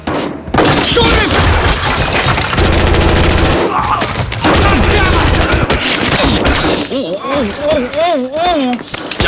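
Gunfire in the video game Battlefield Hardline: loud, dense bursts of automatic fire and booming shots fill the scene, mixed with shouted voices and game effects, ending in a warbling electronic tone.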